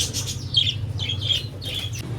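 A parrot gives three or four sharp, high squawking calls in quick succession, fairly close, over a low steady hum.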